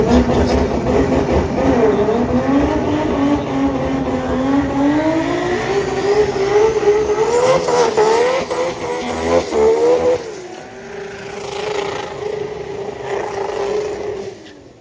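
Race cars at a Brisbane drag racing event for imported cars, rotary, RB and 2JZ engines, roar off the line with rising, revving engine notes that stay loud and close, then fade slightly as they pull away.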